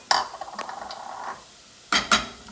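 Garlic dropped into a pan of onions that have just finished sauteing, giving a brief sizzle and a few utensil clinks and stirs against the pan, with two sharper scrapes near the end.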